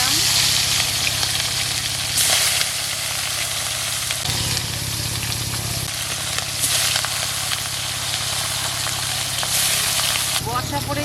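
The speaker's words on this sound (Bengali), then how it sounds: "এর মাছটাকে ভেজে নেব। এই মাছ দিলাম," Turmeric-coated fish hitting hot oil in a wok, with a loud continuous sizzle and spatter over a low steady hum, as the fish is laid in for a spicy Bengali fish curry.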